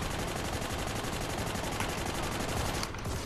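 Sustained automatic gunfire in Army of Two: The 40th Day, a dense unbroken rattle of rapid shots layered over one another, loud and close, with no voices on top.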